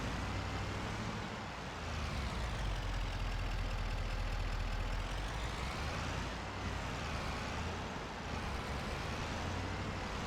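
Truck engine rumbling steadily while manoeuvring a trailer in Farming Simulator, a low continuous drone with slight swells as it moves, close and fairly constant over about ten seconds with no talking.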